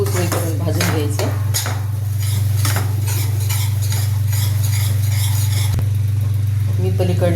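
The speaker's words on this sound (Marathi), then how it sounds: "त्याच्यामध्ये 2 चमचे रवा टाकायचा. ते पण छान खरपूस वेळेपर्यंत भाजून घ्यायचं." Gram flour and semolina roast in a pan as a spoon stirs and scrapes, with a steady low hum and clinks over faint sizzling, a voice speaking at times.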